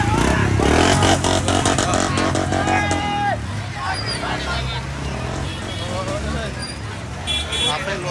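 Motorcycles rev and pass through a crowded Dashain bazaar in Nawalpur, engines droning loud and near under constant crowd babble and someone speaking.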